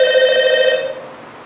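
A telephone rings with a loud electronic bell tone that holds steady for under a second, then fades and cuts off, with no voices over it.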